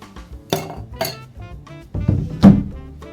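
Large ice cubes clink and knock in a glass while a Pink Squirrel cocktail is being made at a bar, giving a few separate close clatters with quiet gaps between them.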